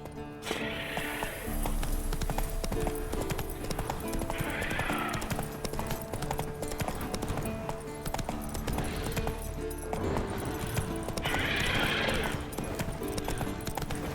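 Horse hooves clip-clop steadily and rhythmically under a continuous soundtrack in The Witcher 3: Wild Hunt, with a few bursts of hissing effects rising and fading.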